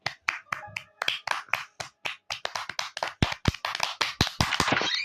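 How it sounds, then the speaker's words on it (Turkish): A small burst of hand clapping, sharp claps in a quick, uneven rhythm, close by, lasting a few seconds and picking up toward the end. "Bir alkış alalım."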